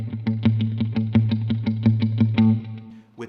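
Electric guitar runs through the player's own speaker cabinet, chugging a steady run of about a dozen evenly spaced muted low notes close up, then stopping abruptly.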